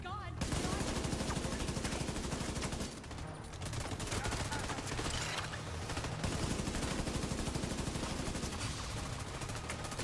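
Minigun fire in The Division 2, a dense, continuous rapid-fire roar running nearly the whole time with a brief dip partway through, loud and close with no spoken voices over it.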